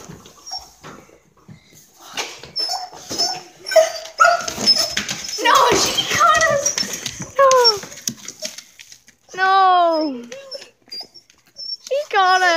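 A dog barks and yips repeatedly in sharp, high bursts, close by, with a long run of yelping near the end, over lively chatter and shouting from several people outdoors near a trampoline.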